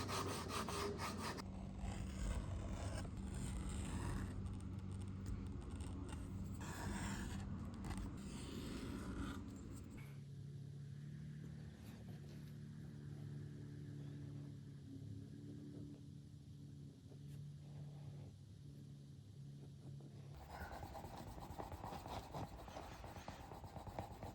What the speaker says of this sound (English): I used some sandpaper to smooth everything out, and then hit it with my edge beveler, then some Tokonol with my wood slicker.